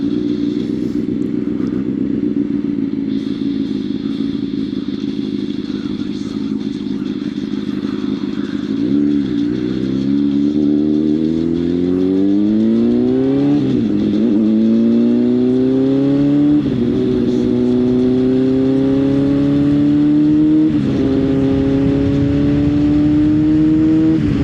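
A 600cc motorcycle ridden on the road, its engine droning steadily and loud close up, then rising and dropping in pitch through several gear shifts with brief dips between them, no talk over it.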